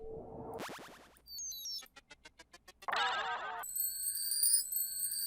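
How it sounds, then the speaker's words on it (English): A quick sequence of bright, tinkling R&B chime and bell effects added to a music loop, including a short run of evenly spaced pings, followed by shimmering sustained tones. "Those little chimes, R&B chimes."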